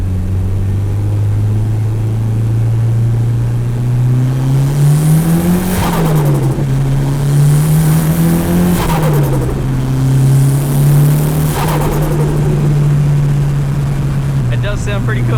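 A car engine recorded in the engine bay with a cheap add-on turbo flutter device, close and loud, droning steadily as it revs up and down several times, with fluttering hiss bursts on each throttle lift.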